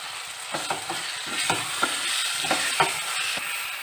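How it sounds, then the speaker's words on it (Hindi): Onion and tomato frying in oil with white cumin for an aloo baingan salan, a soft continuous sizzle broken by clicking and scraping spatula strokes against the pan, close and fairly quiet, no voices. "प्याज टमाटर को हम भून रहे हैं ऑयल में।"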